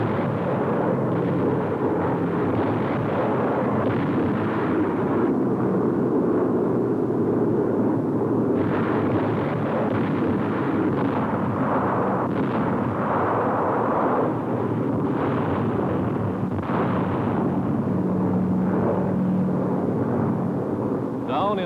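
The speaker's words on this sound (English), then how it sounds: "Over Salamaua, the big Jap base on New Guinea, shore positions are pounded from the skies." Bombs dropped by WWII aircraft blast Japanese shore positions at Salamaua on New Guinea in 1943, a dense continuous roar of explosions and rumbling impacts, loud and layered, with a narrator's voice mixed in over the din.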